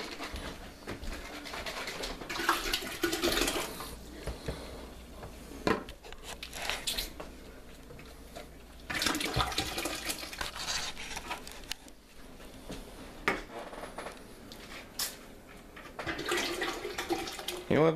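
Liquid is poured and splashes while mead is being made, coming as repeated bursts of sloshing and trickling separated by quieter pauses.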